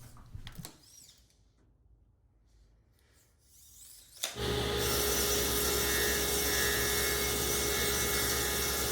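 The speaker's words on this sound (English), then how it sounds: "I'll be using melamine because it's got a slick surface, so it'll be easy to rotate the board as I cut the circle." Band saw cutting a circle in slick melamine board: after a few seconds of quiet handling noises, the saw starts abruptly and runs as a loud, steady whine and rasp to the end.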